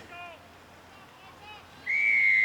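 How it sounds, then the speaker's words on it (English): A referee's whistle blows for the kickoff of a reserves rugby club match, a short shrill blast near the end after faint crowd and ambient noise. "Mr. Miller just about to blow the whistle"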